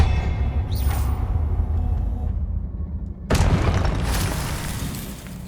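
Spell casting in Hogwarts Legacy: a whooshing cast followed by a loud booming blast partway through, over a low rumbling background.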